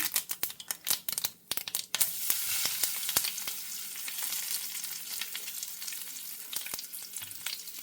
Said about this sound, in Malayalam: ഇനി അതിലേക്ക് കടുക് ഇട്ട് കൊടുക്കാം. കറിവേപ്പില ഊരിട്ട് കൊടുക്കാം.